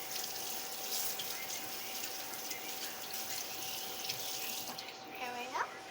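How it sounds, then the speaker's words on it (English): Tap water runs steadily into a sink as something is washed off, a faint, continuous hiss with a brief rise and splash near the end. "we're going to wash this off."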